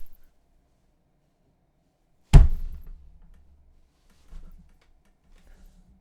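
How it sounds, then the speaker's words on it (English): A body falls to the ground in a fantasy sword fight: one heavy, close thud, followed by a low rumbling tail. A fainter knock comes about two seconds later, and the rest is near silence. "A thud, as George's lifeless body fell to the ground."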